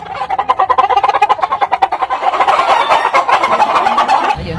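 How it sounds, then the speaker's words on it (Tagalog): Chickens in rural San Fernando, Bukidnon, giving rapid, loud clucks in a quick pulsing rhythm from close by, the calls running together into continuous cackling toward the end. "Chicken everywhere."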